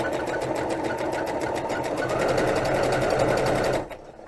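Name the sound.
sewing machine stitching cross stitch fabric edges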